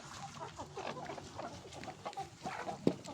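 Layer hens on a farm, past laying age, cluck and murmur in a flock, with a steady low clamor and one sharper squawk near the end.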